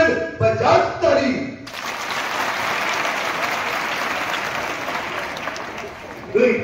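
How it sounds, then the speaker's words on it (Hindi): Sustained audience applause at a personality development guidance session, a dense wash of many hands clapping that swells in after a loud voice and carries steadily for several seconds before another voice cuts back in. "बजाओ ताली।"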